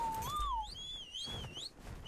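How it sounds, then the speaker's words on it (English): A clear, tonal whistle sweeps upward in the video game ARK, then a second, higher whistle warbles up and down in repeated bends, loud and close with no talking. "he's not listening to my whistles"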